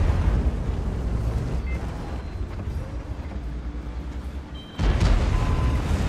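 A heavy tank's large-calibre cannon fires in World of Tanks, a booming blast near the end over a constant low rumble of engine and battle ambience.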